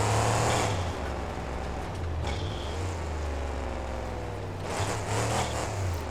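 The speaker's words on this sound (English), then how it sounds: "some kind of pressure relief valve is going off when the truck stops accelerating" A monster truck engine in BeamNG roars at high revs, droning loud and steady, while a pressure relief valve hisses in short bursts as acceleration eases.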